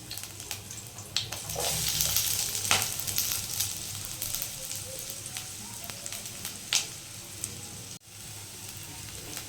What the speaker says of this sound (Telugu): ఇప్పుడు కొంచెం ఫ్రై అయ్యాయి కదా ఆనియన్స్